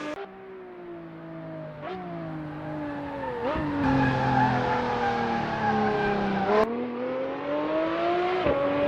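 A 2015 Lotus 311 race car with 460 horsepower accelerating and cornering on a track, its engine rising and dropping through several gear shifts with brief tire squeal, steady and fairly near, no talking.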